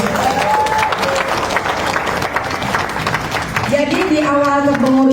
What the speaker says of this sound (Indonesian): Tepuk tangan buat Kopassus.